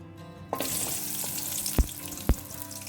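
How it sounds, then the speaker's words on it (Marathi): Onions hit hot oil in a pan and start to fry, a bright sizzle that jumps up suddenly and then holds steady, with a couple of sharp clacks from stirring near the end. "और प्याज को ना बढ़िया सा ब्राउन कलर आने तक इसे हमें फ्राई करना है."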